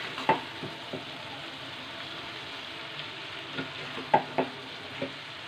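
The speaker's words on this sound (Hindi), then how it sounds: "अब हम इसे अच्छे से चलाएंगे।" Hakka noodles sizzle steadily in a hot pan while being stirred, a soft continuous frying hiss broken by occasional spoon or utensil clinks against the pan.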